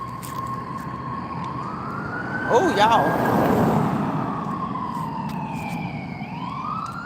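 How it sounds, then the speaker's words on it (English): Ambulance siren passing on a street, a loud wailing tone that rises and falls, swelling as it nears and fading away over traffic rumble, with a brief spoken exclamation partway through. "There's an ambulance."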